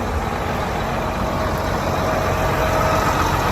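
A John Deere 8320R tractor, a 2020 model with about 1,200 hours, idles with a steady low diesel rumble, close and continuous with no change in pitch.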